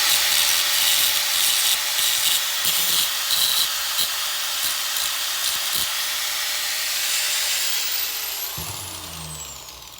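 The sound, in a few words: grinding down welded spots on a key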